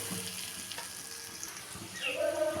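Spice paste of cumin powder, salt, turmeric and torn green chilies frying in a pan for a simple fish curry, giving a quiet continuous sizzle with a faint tonal whine toward the end.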